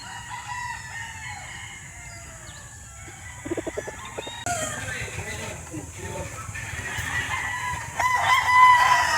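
A Boston Black gamefowl rooster crows close by over a quiet farmyard background, with other fowl clucking, while someone talks on and off.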